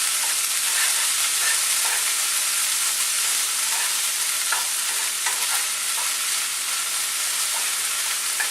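Sushi rice warming in a hot pan while it is stirred: a constant close frying hiss with soft rhythmic scraping strokes, steady and without voices.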